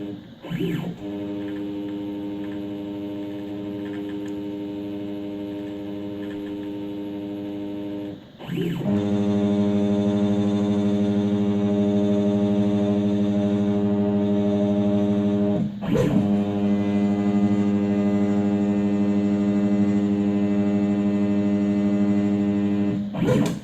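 A CNC machine steps through a tool change and moves to touch off and re-zero its tool, giving a steady tonal motor whine with a clear harmonic series. The whine breaks briefly twice as the moves change, then resumes.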